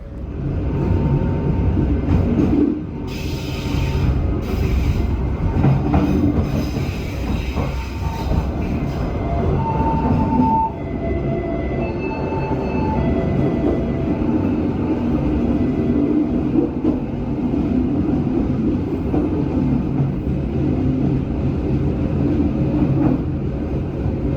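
Steady rumble and clatter of a moving passenger train, with rolling wheel noise and occasional squeals, continuous and close throughout.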